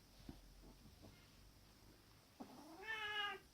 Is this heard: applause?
no